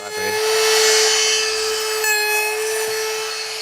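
A wood router cutting a practice piece of wood, a loud, steady high-pitched whine with a sustained tonal hum throughout, close and alone, easing slightly after the first second.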